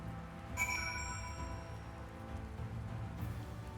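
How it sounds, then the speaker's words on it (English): Rain falls steadily in a daytime scene in the video game Final Fantasy XIV Shadowbringers, a soft continuous patter with a brief chime-like tone near the start. "I would say it's daytime and raining"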